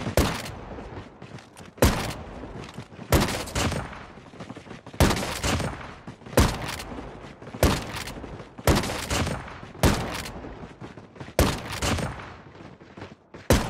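A new gun fires in rapid bursts in Call of Duty Mobile during the Season 8 update: about ten loud volleys in a regular rhythm, each with short fading tails between them.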